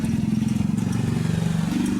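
A motorcycle engine with a worn, rounded sprocket, running with a close, loud, pulsing putter that holds steady over a couple of seconds.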